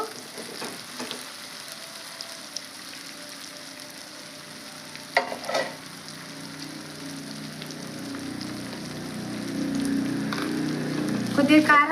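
Cauliflower pieces and soft tomatoes fry in oil for an egg curry, with a steady low sizzle and a few brief clatters of stirring. The frying gets louder toward the end, and nobody speaks.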